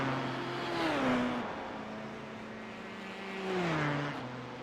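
An LMP1 prototype race car approaches and passes at Monza in a racing game, its engine whine rising and falling in pitch twice as it sweeps by, fairly quiet under a steady background hum.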